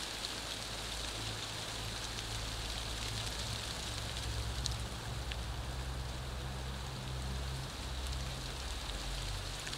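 Rain falls steadily outdoors as a dense, even hiss with no pauses. It is faint and distant, with a low rumble underneath and no one speaking.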